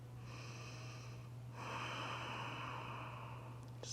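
Slow, audible breaths drawn and released by someone holding a puppy-dog yoga pose, close and fairly soft over a steady low hum.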